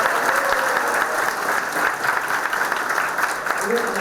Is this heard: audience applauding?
yes